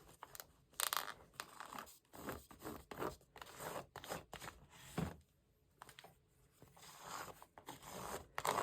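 A repurposed butter knife spreads and scrapes textured medium across an art journal page in repeated rasping strokes, close up, with brief pauses between passes.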